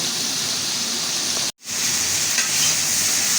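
Spice paste frying hard in a pan, a dense, loud, continuous sizzle that cuts out briefly for a split second before resuming just as strongly.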